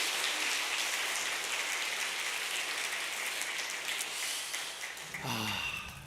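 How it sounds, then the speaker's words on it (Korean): A church congregation at a Sunday worship service at a Korean Presbyterian church in Detroit gives sustained, dense applause for several seconds, then a voice begins speaking near the end. "우리 하나님께 감사의 박수 올려드리겠습니다"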